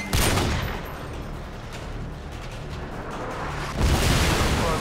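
AGM missiles fired from a UAV strike in a Call of Duty Spec Ops match, producing loud rumbling explosions and crackling blasts in a continuous barrage that swells again near the end.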